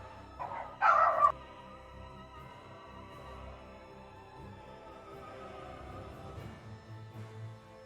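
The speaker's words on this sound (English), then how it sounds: "So dog was barking" Dog barking in Valkyrie Anatomia: Revenge of the Sinner event, a short loud burst of a couple of barks near the start, then fading under a steady game music bed.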